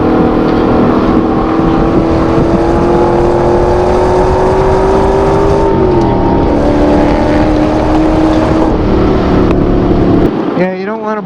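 A car engine run hard, a loud sustained drone that drops in pitch as the driver comes off the throttle, then settles before cutting back near the end, heard close from inside the car.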